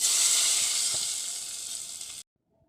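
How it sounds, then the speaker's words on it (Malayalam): A sharp, loud sizzle bursts out as hot mustard-seed tempering is poured into mango pickle, hissing steadily and slowly fading before cutting off abruptly. "കടുക് വറുത്തത് നമുക്കിതിലേക്ക് ഒഴിച്ചു കൊടുക്കാം"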